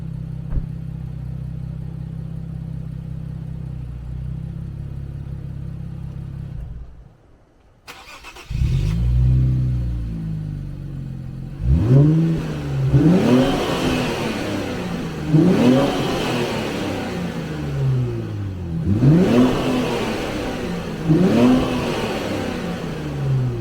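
An Infiniti Q60, already warmed up, cranks and starts after a quiet idle, then its engine revs in repeated loud rising bursts that fall back between them, close and without any talking.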